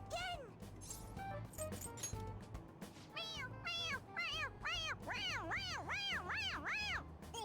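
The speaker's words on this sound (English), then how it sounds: "It's, a toy. It meows when you press on its head." A toy kitty in a video game meows repeatedly when pressed on the head, its squeaky mews growing louder and more frequent toward the end over a steady low game hum.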